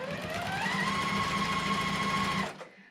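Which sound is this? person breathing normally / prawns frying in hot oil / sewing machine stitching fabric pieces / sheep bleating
sewing machine stitching fabric pieces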